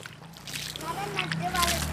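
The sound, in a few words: water being poured onto plants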